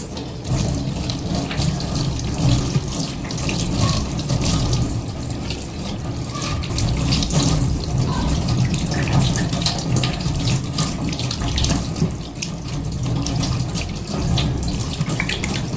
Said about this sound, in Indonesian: Setelah itu kita bilas dengan air mengalir.